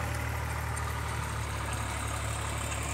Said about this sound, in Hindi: ट्रैक्टर तो इंजन बड़ा है, लोड तो मानता ही नहीं है बिल्कुल